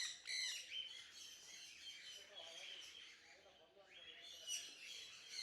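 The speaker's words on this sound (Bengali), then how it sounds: "বড় বড় ককাটেলও আছে" Large cockatiels and other birds squawk and chirp in a garden, giving faint, scattered calls at a distance. Soft talk can be heard beneath them.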